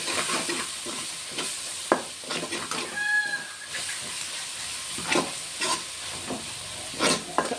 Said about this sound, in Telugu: వేసుకొని దానికి ఒకసారి కలిపేసుకుందాం.